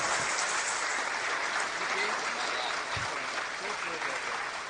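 An audience applauds at a talk, a continuous wash of clapping that holds steady for several seconds, fairly even and moderately loud, with faint voices underneath.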